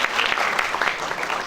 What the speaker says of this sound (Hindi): आपके लिए एक बार आप खुद तालियां बजाइए।